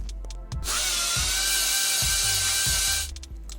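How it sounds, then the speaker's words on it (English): A powered screwdriver backs small screws out of the bottom cover of a first-generation unibody MacBook, giving a steady high whine for about two and a half seconds, framed by faint clicks and taps. "Unscrew the 4 small screws on the bottom and the 4 small screws on the top."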